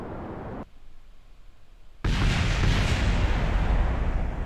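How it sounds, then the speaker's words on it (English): Rocket explosions in Kerbal Space Program during a Mun orbit mission: a low rumbling roar that cuts off, then a sudden loud, dense blast of noise that keeps raging to the end. "Explosions!"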